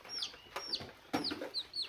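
Chickens in a village yard call in a series of short, sharp clucks and peeps, fairly close and moderately loud, with several calls spaced across the moment and no talking.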